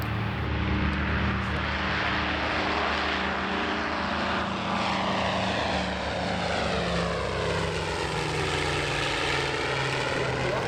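A twin-engine piston F7F Tigercat naval fighter drones loudly overhead at EAA AirVenture Oshkosh 2018, its propeller roar rising and shifting in pitch as it flies past.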